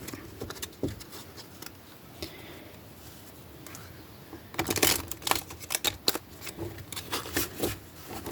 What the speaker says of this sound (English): Kind of a drop shuffle.